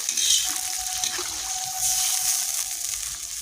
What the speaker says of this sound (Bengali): জল দেওয়া হচ্ছে, বেরেস্তা হয়ে গেছে।